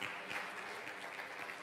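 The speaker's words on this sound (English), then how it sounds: "Let's give the Lord a praise clap while you're being seated." A church congregation gives a brief praise clap as people take their seats, an even wash of many hands clapping together, soft and steady from a distance.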